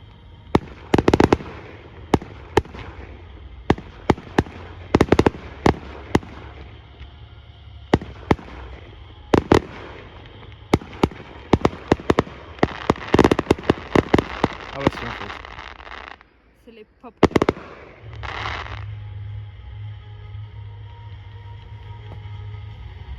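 An outdoor fireworks display sends out many loud, sharp bangs and crackles in irregular bursts, followed by a brief lull and then a steady low rumble.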